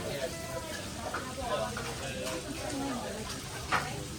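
Food sizzles steadily in a pan at a Vietnamese cooking class, a soft continuous frying hiss with occasional stirring clinks, while people talk nearby.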